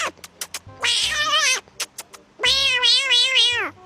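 A man imitates a kitten's meow with his voice, giving two long, wavering, high-pitched mewling cries separated by short clicks and breaths, close and fairly loud, with no other talk.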